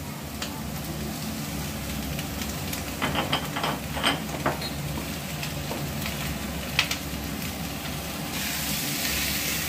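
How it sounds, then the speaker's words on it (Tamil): Onions sautéing with salt in a pan for onion chutney, a steady broad hiss and sizzle running throughout with a few sharper crackles in the middle. "நல்லா வதக்குங்க. நல்லா வெங்காயம் நல்லா வதங்கி இருக்கும்."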